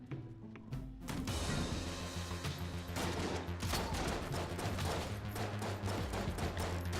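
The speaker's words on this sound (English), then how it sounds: "it feels like every shot is kind of a quad laser shot right now" Rapid, continuous gunfire from the video game Enter the Gungeon, dense overlapping shots in a steady barrage that grows busier after a brief lead-in, loud and close with no pauses.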